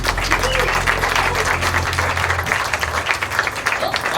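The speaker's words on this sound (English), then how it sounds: "Give her a round of applause." Audience at a psychic soulmates stage show applauding steadily throughout, a dense, sustained wash of clapping with a few voices mixed in.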